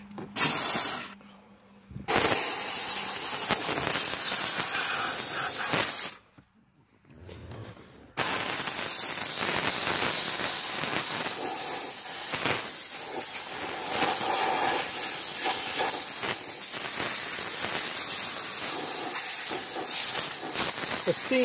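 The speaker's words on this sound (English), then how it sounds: "steam helps break down all that gunk and nastiness" Steam cleaner used during mobile auto detailing, a loud steady broadband hiss running most of the time and cutting out in two short pauses, with some voice faintly present.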